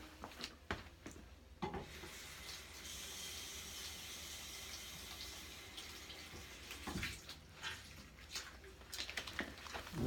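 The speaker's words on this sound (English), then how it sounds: "I'll wet it down with some warm water." Warm water runs from a tap to wet a foot cast, a faint, steady hiss and trickle with a few clunks and splashes as the material is handled nearby.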